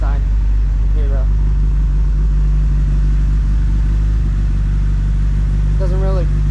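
A tuned Honda EG hatchback engine idles steadily on a dyno, a low, even rumble held throughout, while someone talks over it.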